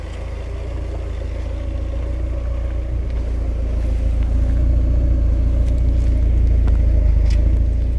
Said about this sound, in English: Real nice burble.